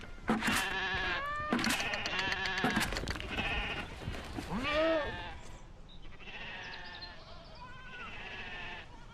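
Meat goats bleating close by in a series of loud, wavering calls, several overlapping cries in the first half, then quieter, shorter bleats with brief pauses between.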